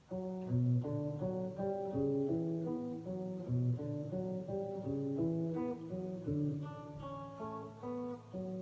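A steady, melodic guitar intro of plucked notes and layered chords, moderately loud and played alone with no voices.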